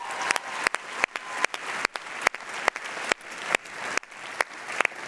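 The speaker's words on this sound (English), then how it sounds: "Round of applause." An audience at the Canva Create 2022 event applauding, a sustained wash of clapping with recurring sharp bursts, full and continuous throughout.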